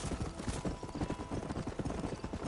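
A horse clip-clops at a steady trot in the Red Dead Redemption video game, a loud, close, rhythmic run of hoof beats filling the whole stretch.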